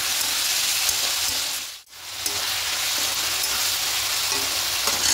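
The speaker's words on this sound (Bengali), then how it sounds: "দিয়ে খুব ভালো করে মিশিয়ে নেব।" Food sizzles loudly and steadily in a pan as turmeric and salt are stirred in, the hiss running continuously, briefly dipping once mid-way, then resuming at full strength with no voices.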